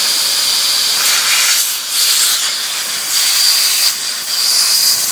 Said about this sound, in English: there's lots of air leaking out from under this valve seat